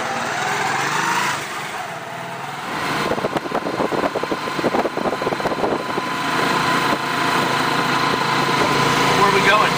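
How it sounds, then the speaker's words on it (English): Motor taxi engine running in Peru, a light small engine buzzing and rattling steadily nearby, rising toward the end. "Motor taxis are the way into town."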